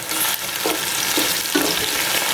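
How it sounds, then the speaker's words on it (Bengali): Whole cardamom, cinnamon, cloves and black and white peppercorns frying in hot oil for tehari, a loud close sizzle broken by several scraping stirs of a spoon. "এখন এটা দিয়ে দিব দিয়ে ভালোভাবে একটু ভাজবো"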